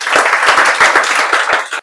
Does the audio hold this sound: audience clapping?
yes